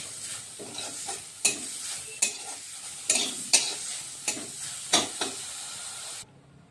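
Black sesame seeds roasting in a pan, heard as a soft sizzle broken by repeated sharp scraping strokes of the spatula in an uneven rhythm up close, before the sound cuts off.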